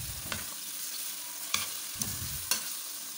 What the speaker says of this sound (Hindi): स्ट्रिप्स में कटा हुआ चिकन तकरीबन 2 कप के करीब है, इसको हम अच्छे से फ्राई करेंगे।